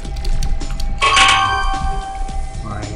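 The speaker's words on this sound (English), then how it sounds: "This is the sound of the marble hopping." A marble hopping in the Platinumquest marble game, a bright ringing chime-like hit about a second in that decays over half a second above a steady low game background hum.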